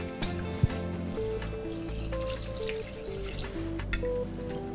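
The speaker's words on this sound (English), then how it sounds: "one cup of almond milk." Almond milk, one cup of it, is poured into a blender for a mint choc chip smoothie, giving a steady close trickle and splash with a few drips and no one speaking.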